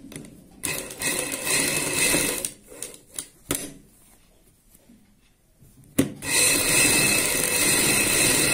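Sewing machine stitching fabric for an angrakha-style gown, running in a long whirring burst, pausing to near silence with a few soft clicks, then starting again loud and steady.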